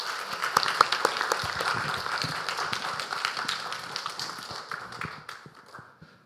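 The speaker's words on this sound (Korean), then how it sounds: "우리 박수로 한번 맞이하시기 바랍니다" A church congregation at a Sunday service claps to welcome a speaker, a moderate patter of many hands that thins and fades out toward the end.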